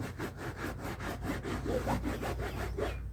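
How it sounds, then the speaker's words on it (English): Towels are rubbed back and forth over car interior carpet, making a rhythmic, close, rasping scrub with a stroke roughly every quarter second. "Then you can just take some towels, scrub it around."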